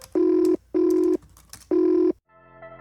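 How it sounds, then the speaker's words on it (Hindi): An office telephone rings for an incoming call in three loud, even electronic bursts separated by short pauses, ending in a softer trailing tone. "एक दिन ऑफिस में काम करते टाइम अभिषेक को एक फोन आया"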